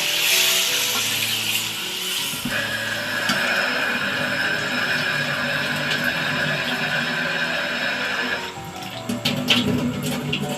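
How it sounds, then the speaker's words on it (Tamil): Water is poured into cooked crab masala in a pan for Madurai-style crab soup, giving a steady close hiss and trickle that runs for most of the clip before tapering off. "லைட்டாக இப்போ தண்ணி ஊற்றிடுவோம்"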